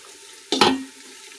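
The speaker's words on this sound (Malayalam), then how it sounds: "എണ്ണയിൽ കിടന്ന് തിളച്ച് മറിഞ്ഞ് ഇതാവുന്നുണ്ട് നമ്മളുടെ ഉള്ളിയൊക്കെ" Onions and raisins fry in hot oil and are stirred once, a short scraping stir with a brief burst of sizzle, close and alone, then settle to a quiet simmer.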